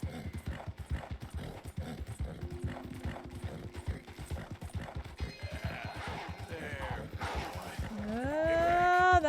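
Horse hooves clip-clop at a steady gallop in the western game Red Dead Redemption, a dense rhythmic drumming held close throughout, with rising music-like tones and other animal noises swelling toward the end.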